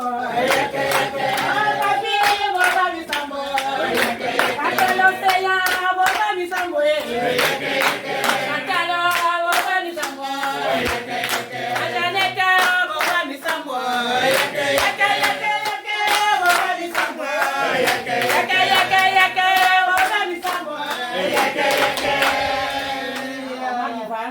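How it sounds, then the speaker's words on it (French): An audience at a campaign speech in Odimba claps in a steady rhythmic beat for the whole stretch, joined by loud chanting or singing voices over the claps. "Applaudissez"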